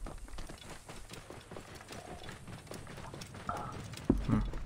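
Horse hooves gallop in a steady clip-clop rhythm in Assassin's Creed Origins, close and moderately loud throughout, with a brief louder burst near the end.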